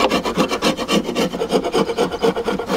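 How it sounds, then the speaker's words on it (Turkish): Beeswax is scraped off wooden honeycomb frames by hand in a steady, rhythmic series of coarse rasping strokes, close and loud with no talking. "Şu mumlar var. Onları sıyırmamız gerekiyor."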